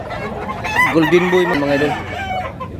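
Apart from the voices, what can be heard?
gamefarm roosters (bullstag) clucking and crowing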